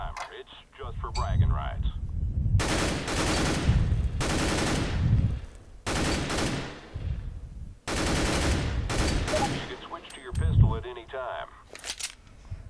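Gunfire in Counter-Strike: Global Offensive's training level, with loud bursts of rapid shots in several separate volleys, some single cracks and clinks between them, and someone talking over parts of it.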